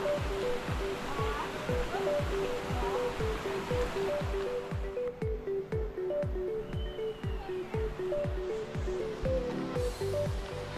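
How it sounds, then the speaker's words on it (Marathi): Rushing stream water pours over rocks at Devkund waterfall in the Tamini Ghat forest, a steady broadband roar running throughout with a repeating low rhythmic thump and faint background voices. "वड्यातून खळखळणारे पाणी, पाण्याचा आवाज एवढं भारी वाटत होतं ना"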